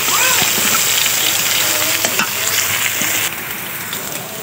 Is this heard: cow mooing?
no